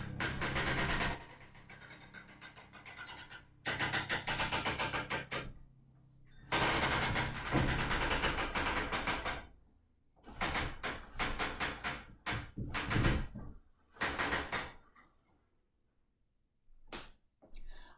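A loom's warp beam cranked while beaming a warp, with hanging weights rising: bursts of rapid ratcheting clicks in several runs separated by pauses, then fading to faint isolated clicks.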